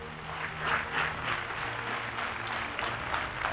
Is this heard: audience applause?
yes